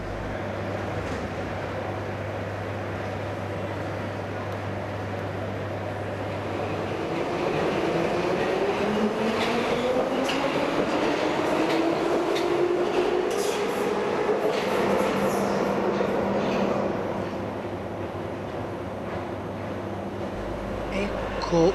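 A renovated Soviet-built Metrovagonmash metro train on Budapest's M3 line rumbles loudly and continuously, with clicking wheels and a motor whine that climbs and falls in pitch as the train runs through.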